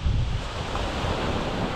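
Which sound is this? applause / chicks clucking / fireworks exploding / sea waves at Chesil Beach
sea waves at Chesil Beach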